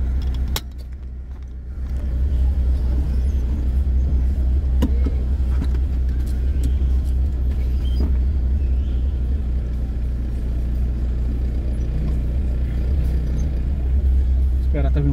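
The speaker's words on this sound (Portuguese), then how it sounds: "Espera, tá vindo um carro atrás meu?" A car idling and rolling slowly through a maneuver at night near a church in Aparecida, a close steady engine rumble with brief clicks and knocks, and a voice talking over it.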